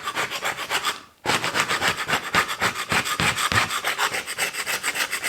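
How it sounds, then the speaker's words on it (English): Paint is scraped off wooden skirting boards in loud, close, rhythmic rasping strokes, one brief pause near the start, then steady back-and-forth scraping. "So the fact that this is scraping off so nicely."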